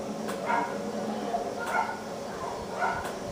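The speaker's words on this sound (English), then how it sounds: "My dog's barking, which is adding to the migraine." Dog barking in Dragon Age 2, with three short barks spaced about a second apart, each at moderate volume over steady game background noise.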